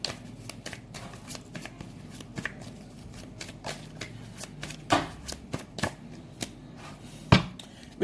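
Tarot cards being shuffled by hand, a soft, steady flutter of riffling and slapping card noises with a few sharper snaps, close and fairly quiet.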